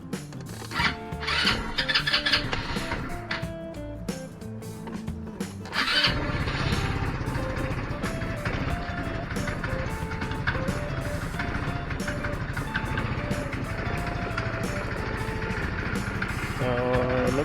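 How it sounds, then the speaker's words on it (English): A GY6 scooter engine cranks a few times and then catches, running at a steady close idle with a buzzing drone after a new battery is fitted. "Turn on your scooter and test it out and see it work."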